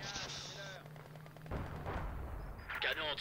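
Machine gun fire in the Company of Heroes 2 war strategy game, dense crackling bursts mixed with other battle noise and game effects, fairly loud throughout.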